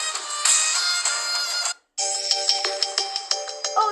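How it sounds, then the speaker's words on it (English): A Samsung A03 phone ringtone plays loud and alone, a bright electronic melody of layered tones that cuts out briefly before resuming with rhythmic repeating notes. "Oh yeah, even I used to have this ringtone."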